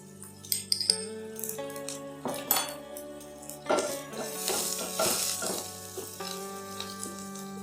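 Chopped garlic is stirred in a hot pan of oil, with a bright sizzle and repeated metallic clinks and scrapes of a utensil against the pan in an irregular rhythm.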